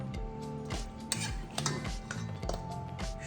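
Cooked mutton is tipped into a pot for Kolkata mutton biryani, with metallic clinks and scrapes of a utensil against the pot in an uneven rhythm, close and moderately loud.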